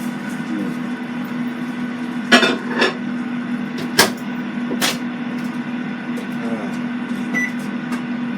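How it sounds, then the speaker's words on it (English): A microwave oven hums steadily at low pitch, with a few sharp clicks and knocks nearby and faint voices in the room. "Put this in the microwave for a second"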